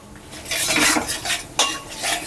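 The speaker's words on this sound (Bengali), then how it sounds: "খুব ভালো করে আমি মিশিয়ে নেব" A utensil stirs and scrapes through Bengali rui fish malai curry in a metal pan, giving steady clattering scrapes with a sharper knock partway through, close and moderately loud, with no talking.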